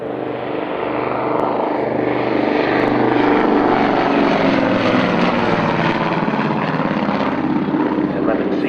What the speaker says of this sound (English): This one powered by a pair of 420 horsepower Armstrong Siddeley Cheetah 17s.